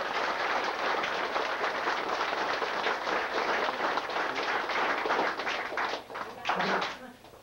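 At a gathering of Stuhr family descendants, a room of people claps in a steady round of applause that tapers near the end, with a few voices and scattered claps coming through.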